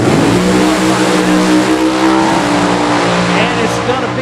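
Funny car drag racer launching at Mo-Kan Dragway, a loud, dense roaring engine with sustained harmonic revving and a brief rise in pitch, steady and close throughout under crowd and track noise.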